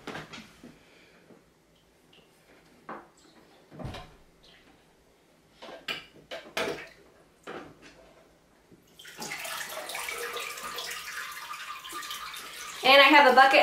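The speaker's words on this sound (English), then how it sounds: "you're gonna wanna take your filter out of your tank to clean it" A turtle tank filter is pulled out of the water in a close, quiet room: scattered knocks and handling clicks first, then a steady splashing, dripping rush of water that swells louder near the end.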